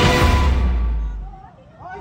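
Gunfire during a roadside clash between an SUV driver and several motorcycle riders on Marcos Highway: a single loud, close blast that rings out and slowly decays, followed by faint voices.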